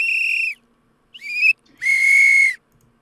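A whistle is blown three times in quick succession, a short blast, a brief chirp, then a longer sustained blast, loud and close with no talking.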